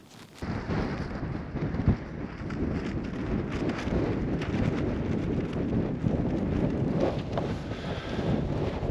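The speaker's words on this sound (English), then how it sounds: "It's blowing a gale." A strong gale on open moorland in the Yorkshire Dales, near Mallerstang Edge, buffets a camp with a constant loud roaring rumble and heavy wind noise on the microphone, sustained throughout with no speech.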